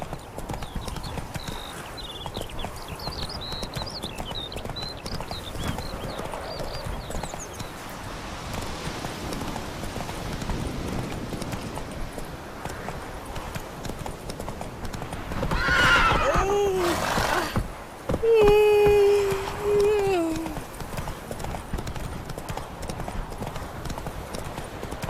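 Roach, the horse in The Witcher 3, gallops with rapid hoofbeats that build and grow louder, and loud neighs and whinnies ring out near the end.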